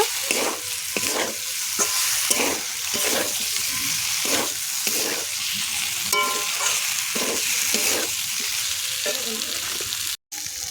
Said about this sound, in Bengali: ভেজে রাখা ঝিঙে দিয়ে ভালো করে আবারও কষাই করব।